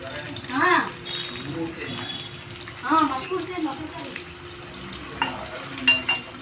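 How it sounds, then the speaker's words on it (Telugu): Bitter gourd slices frying in hot oil make a steady sizzle beneath a voice talking over the pan in bursts, the crackle rising between her phrases. "ఆయిల్ హీట్ అయిన తర్వాత కాకరకాయలు వేసుకోవాలి నూనెలో వేయించుకోవాలి"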